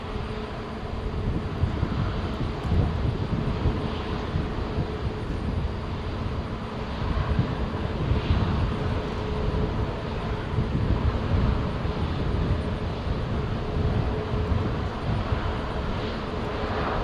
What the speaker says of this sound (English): So, Delta Flight 870 from Seattle, Airbus A220 is just about to land.